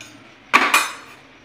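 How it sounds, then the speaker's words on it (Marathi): A raw egg cracked on a hard edge and dropped into a simmering dhaba-style egg curry: two sharp close knocks in quick succession, then a brief soft trailing sound, with no talk. "बारीक गॅसवर ठेवायचं आणि अंडे फोडून टाकायचं त्याच्यामध्ये"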